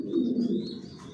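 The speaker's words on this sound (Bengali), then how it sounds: "কোয়ালিটি সম্পন্ন কবুতর পালি" Pigeons in a racing pigeon loft give a close, continuous low cooing that rolls on without pause, with no voices.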